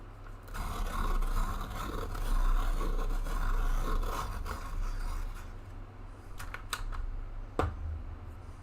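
A Prismacolor Premier colored pencil turning in a sharpener, a continuous close rasping grind over a low steady hum, easing off after about six seconds into a few faint clicks and taps.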